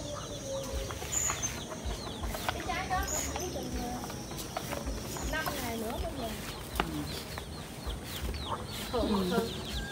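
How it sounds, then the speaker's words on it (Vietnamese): Chickens cluck among ducks in a home durian orchard in Cai Be, Tien Giang, with repeated short calls scattered over a busy outdoor background while people talk nearby. "Có gà, có vịt, na nó trong vườn nhanh chú."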